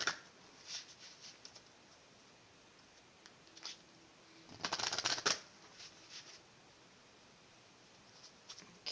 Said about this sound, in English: I'm just going to shuffle quickly.